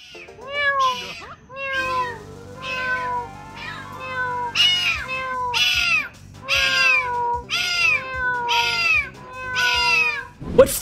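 A cat meows again and again in long, rising and falling cries, close and loud, with a steady low hum beneath and a brief sharp noise at the very end.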